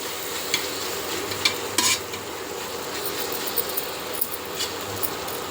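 Biryani masala being stirred and fried in a pan, a steady close sizzle under soft scraping and clinks of a spoon against the metal, with a few sharper knocks scattered through.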